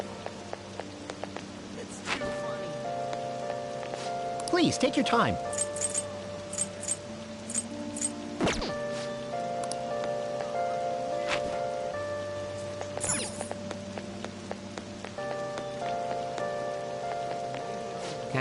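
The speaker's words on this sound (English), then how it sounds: "When's the rain gonna let up?" Rain patters steadily across a scene in the video game Persona 5 Royal, forming a constant wash under game music and a few sharp clinks, while a voice briefly speaks over it.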